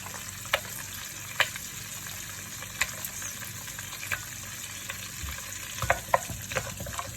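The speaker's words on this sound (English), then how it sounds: "Stir that up a little bit." Cashews get stirred into butter chicken in a pan, a steady sizzling bed punctuated by sharp irregular clicks and scrapes of the utensil against the pan.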